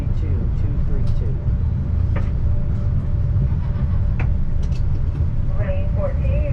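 Pikes Peak cog railway train rolls along with a loud, steady low rumble and clanking, with occasional squeals and rattles on top and a voice speaking in the background.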